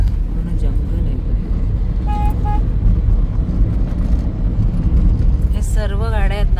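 Cars full of families travel the road toward Konkan past the Karnala forest sanctuary, giving a steady rumble of engine and traffic. A short horn toot sounds midway and a voice talks over the noise.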